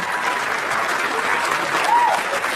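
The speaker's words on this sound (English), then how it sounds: "Mark Norman, please clap for him." A stand-up comedy audience at an Amy Schumer live show in 2016 applauds comedian Mark Norman with steady, even clapping that fills the room throughout, with a brief whoop near the end.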